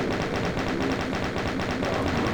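Rapid bursts of bullet fire in a Doom map, dense repeated shots crackling continuously and loudly with a steady rhythm, no voices.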